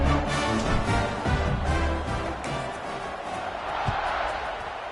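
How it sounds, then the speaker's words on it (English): A football stadium crowd at a Tulane vs FIU game roars steadily through a kickoff, a dense sustained wash of cheering and shouting with a few sharp bangs and whoops rising out of it. "this crowd is feeling themselves after that last drive"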